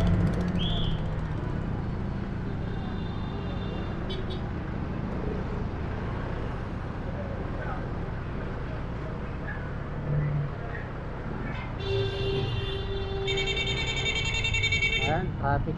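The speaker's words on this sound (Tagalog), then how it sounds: "Traffic dito, so may ginagawa kasing kalsada rito." Road traffic near a road construction site in Tondo, Manila, with a steady low engine and tyre rumble, passing vehicles and occasional horns or high tonal beeps, under ongoing talk.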